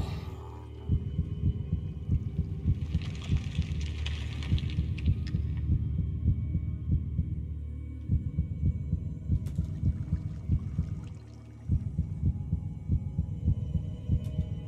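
A heartbeat in the Minecraft map Decked Out 2 thumps in a steady, rapid rhythm under a low hum, pausing briefly twice before resuming, with no talk.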